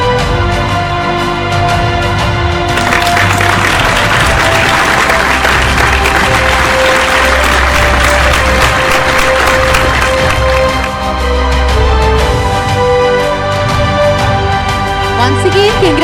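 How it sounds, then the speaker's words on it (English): At a science award ceremony, an audience applauds a winner with steady, sustained clapping that carries on for about sixteen seconds, brief voices and background music underneath. "A big round of applause"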